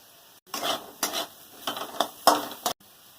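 Potatoes frying in oil in a pan, heard as a handful of short scraping stirs with a spatula over a light sizzle, close and separated by brief pauses.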